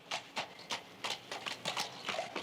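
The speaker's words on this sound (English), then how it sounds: "they'll go all day at a trot." Horses trot as they pull a Cobb and Co coach down the main street of Longreach, their hooves making a regular clip-clop rhythm of moderately close, distinct strikes with no talking.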